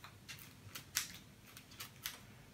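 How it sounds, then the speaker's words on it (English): Scissors snip the tips off fatsia leaves during a flower arrangement, giving a few quiet, crisp clicks spaced irregularly, close and faint with no talking. "So just with your scissors, just take the tips off."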